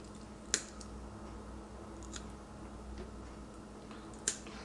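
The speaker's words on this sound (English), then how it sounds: "let's go ahead and trim that up here" Scissors trimming paracord strands while finishing a four-strand round braid bracelet, with two sharp, close snips several seconds apart and faint small ticks over a quiet background.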